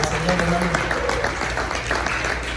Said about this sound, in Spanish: Dele una ofrenda de palmas al Señor, hermanos.